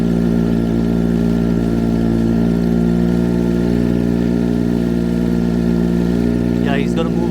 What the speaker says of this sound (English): Okay, the propellers are rotating.